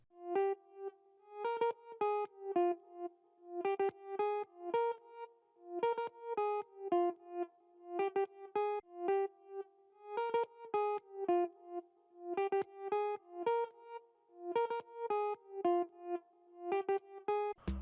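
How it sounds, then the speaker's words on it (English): Ilia Efimov electric guitar from a Kontakt library picks a bright, clean plucked melody in a repeating syncopated amapiano pattern, with short notes and light effects, alone and fairly close. "this sound was initially gotten from a Kontakt library that is called the Ilia Efimov electric guitar"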